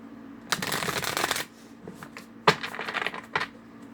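A Flower of Life oracle card deck is shuffled by hand close up, making a dense riffling burst followed by several shorter crisp flicks and card slaps, with no talking.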